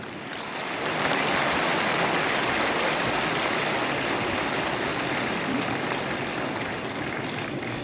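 Audience applause fills a hall at the grand opening of the New Delhi World Book Fair, starting after a brief quiet moment and holding as a dense, steady roar of many hands.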